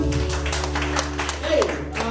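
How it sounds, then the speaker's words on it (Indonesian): A worship congregation claps in a rhythmic pulse over sustained keyboard chords, with a voice speaking over the music. "Beri tepuk tangan sekali lagi buat Allah kita"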